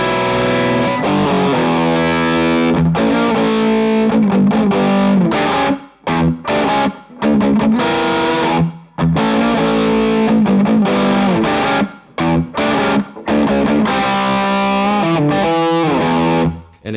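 Electric guitar played through a Bennett Custom Audio Sea Eagle amp on its low-gain channel, giving a loud, crunchy driven tone in chords and riffs, with brief pauses between phrases and no talking.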